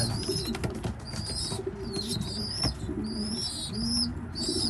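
Young racing pigeons at weaning cooing near the drinker, soft repeated coos overlapping among several birds in a steady murmuring chorus.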